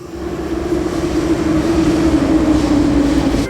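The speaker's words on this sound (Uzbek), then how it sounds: "O, metroning ovozi eshitildi yana." A metro train runs steadily past with a loud, close, constant rumble and a sustained mechanical hum, no voices heard.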